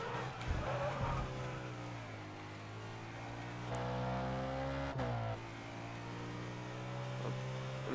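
Race car in Grid Autosport sliding through a corner, engine drone with shifting harmonic pitch and a faint tire scrub, steady and continuous throughout.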